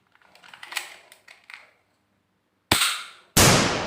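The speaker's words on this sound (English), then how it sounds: "This is mini pistol." A toy mini pistol clicks and clacks through a run of light mechanical handling sounds, then fires two sharp, loud cracks close by with a short pause between them.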